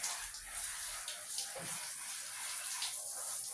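Tap water runs and splashes steadily while a Pomeranian dog is bathed in hot weather, a soft continuous gush with faint splashes throughout.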